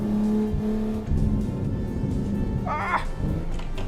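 A car engine in a racing video game, revving and upshifting: a steady engine whine that drops as the gear changes, then a short rising squeal of revs, with faint talk underneath.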